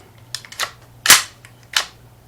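Ruger 10/22 rifle action being cleared, with three or four sharp metallic clacks and snaps of the bolt spaced irregularly, close and crisp with no talk.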